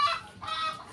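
Chickens packed in a carton for sale give two short, close, faint clucking calls in quick succession, with no talking.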